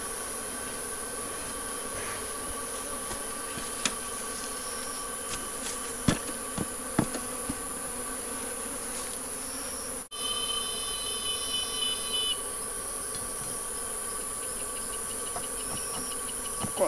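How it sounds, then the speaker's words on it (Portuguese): Honey bees swarm around an opened wooden hive box during a honey harvest, a steady dense buzz filling the air throughout, with a few sharper close passes and small knocks from handling the frames. "muita abelha."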